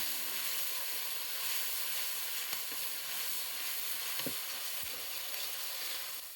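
Spice paste with green chillies frying in a pan for a spicy duck egg curry, giving a steady dense sizzle and hiss throughout, with a few faint clinks of a spoon against the pan.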